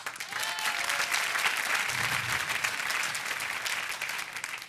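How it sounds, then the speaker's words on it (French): A stand-up comedy audience applauds, a dense, steady wash of clapping that holds at an even level for several seconds with no talk over it. "applaudissements"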